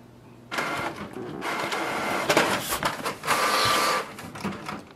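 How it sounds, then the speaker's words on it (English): Canon Pixma G5050 inkjet printer printing a page: a faint idle hum gives way to loud whirring feed and print-head passes in several bursts with mechanical clicks, close by and without talk. "Now to check it, I can simply print a page or I can print a photo to confirm it."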